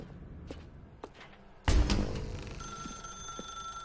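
A telephone rings in the video game The Stanley Parable, a sharp bell-like burst after a few soft footsteps and a thud, leaving a sustained ringing tone that hangs on at moderate loudness.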